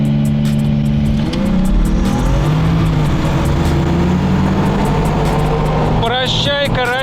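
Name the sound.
Volga car accelerating in a race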